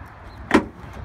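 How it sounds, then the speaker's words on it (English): The easy-release tailgate of a Ford Raptor pickup lowering slowly, a single brief clunk and rattle in the middle against a quiet background, close by with no talk. "The easy release door here comes down very slowly."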